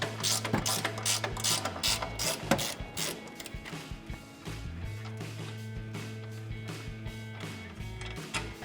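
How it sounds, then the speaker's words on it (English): Ratchet of a socket wrench clicking while removing bolts during a coil-over install on a Toyota Tacoma, rapid close bursts of clicks and turning strokes with a low steady hum underneath. "using your socket or wrench, go ahead and remove it"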